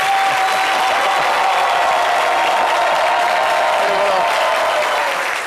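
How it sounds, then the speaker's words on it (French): A studio audience on a French-language TV show applauds loudly and continuously, a dense, even roar of clapping that holds steady throughout and fades slightly at the very end. "Nous vous raccompagnons comme vous le méritez si bien avec un tapis d'applaudissements."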